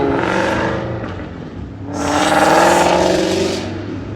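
A car engine revs loudly and close up, rising in a sustained surge of power partway through, with a continuous engine roar and no talking.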